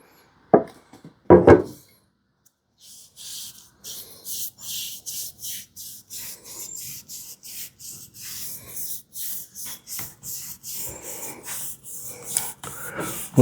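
Brush strokes laying tung oil onto a wooden workbench, a steady series of soft rubbing swishes in close, even rhythm after a couple of louder knocks at the start.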